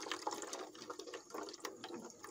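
Warm water flows from a heating radiator's opened bleed valve as a steady, quiet hiss and trickle with splashy bursts, close up and with no talk.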